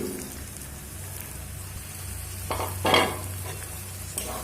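Pre-fried potatoes stirred in a pan with eggs for a Bengali egg curry, a steady soft sizzle with a couple of louder scraping stirs midway.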